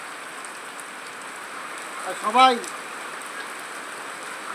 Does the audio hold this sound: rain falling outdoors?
yes